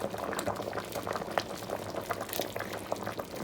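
Bitter leaf soup (ofe onugbu) boiling in a pot, a continuous close bubbling and popping of thick liquid at moderate level, steady throughout with no voices.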